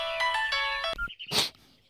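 A mobile phone ringtone plays a bright repeating melodic pattern for about a second in a scene from a Telugu movie dubbed in Hindi, then cuts off before a short breathy sound.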